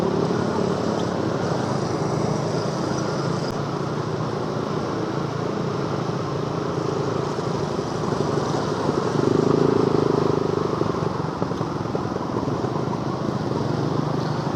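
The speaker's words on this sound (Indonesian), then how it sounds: "Ini Yamaha apa ya? Lexi, Yamaha Lexi ya teman-teman." A small Yamaha Lexi scooter engine hums steadily nearby on a morning ride from Bekasi to Jakarta, a constant buzzing drone amid road noise with a slight swell partway through.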